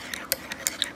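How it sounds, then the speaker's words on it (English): A spoon stirring Horlicks chocolate protein powder into milk in a cup, giving four or five light, quick clinks in a loose rhythm, close by and fairly quiet, with no talking. "You just stir it a little bit."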